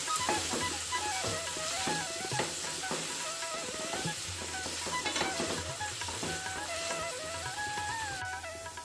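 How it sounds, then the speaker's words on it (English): Paneer frying in oil with salt and turmeric in a hot pan for paneer biryani, a steady close sizzle with stirring and scraping clatter running throughout. "Fry it in the oil."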